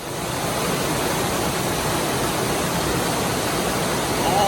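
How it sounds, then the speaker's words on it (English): A swollen creek after heavy rain, brown with silt and sand, roars past as a fast, powerful torrent, a dense unbroken rush of water that stays steady and loud throughout. "All that water forms this powerful torrent, which is the current state of Burnt Fork Creek."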